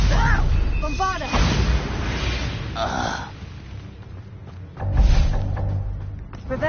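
Bombarda spell explosions in a game arrive as two deep booms, one just after a shouted incantation and another around five seconds in, amid voiced lines and magical whooshes.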